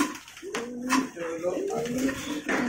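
Lahori pigeons give low, throaty cooing calls in repeated rolling phrases, close by, with a voice talking over them.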